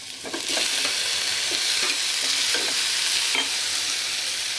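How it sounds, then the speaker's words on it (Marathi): Onion, tomato and garlic sauté in a little oil in a pan, a steady close sizzle with repeated scraping stirs of a spatula throughout, and no voices. "आणि मग आपण त्याच्यात कांदा परतून घ्यायचा आहे टमाटा आपण लगेच त्यात टाकून देऊया"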